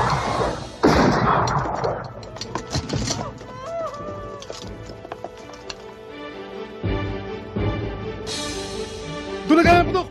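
Sharp gunshots crack amid a chaotic scene, with several loud bursts scattered across the stretch and raised voices and movement in between.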